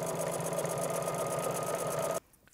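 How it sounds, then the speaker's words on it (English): A sewing machine with a heavy thread stitches two layers of denim together. It gives a fast, steady mechanical chatter up close, then stops abruptly, leaving near silence. "When we sew those 2 layers of denim together, we treat it like any normal seam."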